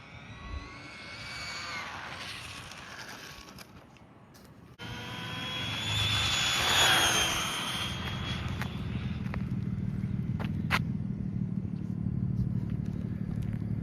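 An RC car on a powerful 4S LiPo battery makes a partial high-speed run over wet grass, its high-pitched electric motor whine rising and falling, then a steady louder hum and crackle in the second half.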